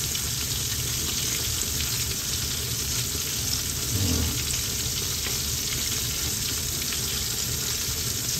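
Flour-coated chicken fries in a pan of very hot oil, giving a dense, steady sizzle and crackle that stays loud and continuous throughout, with no talking.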